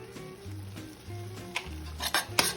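A spoon scrapes and stirs sazon into chicken filling in a pot, soft rhythmic scraping over a faint sizzle, with a few light metallic clinks of utensil against the pot near the end.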